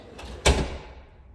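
A single door swings shut with a solid thud, followed by a brief fading rumble.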